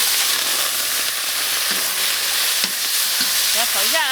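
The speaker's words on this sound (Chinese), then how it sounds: "咱们下入鱿鱼和那个虾炒" Squid and shrimp stir-fried in a wok over a wood fire give a steady, loud sizzle with scraping stirs through the whole stretch, sometimes with a spatula clink, and no talking.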